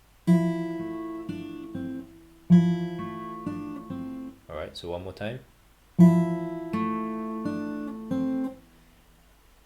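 Fingerstyle acoustic guitar plays a piece from Final Fantasy X in ringing, plucked phrases at speed. Someone speaks briefly midway between phrases before the melody resumes.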